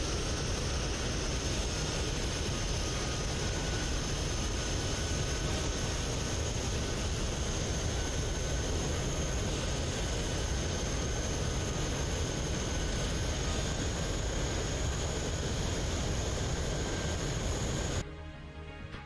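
An F-15 jet taxiing in a flight simulator game, a steady, even engine roar with a faint high whine that holds for about eighteen seconds, then drops off abruptly.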